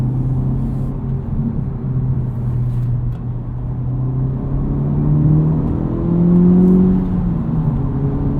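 A 2023 Honda Civic Type R engine hums steadily from inside the cabin, its pitch climbing during a downshift and swelling louder near the end as the revs rise, with no talk.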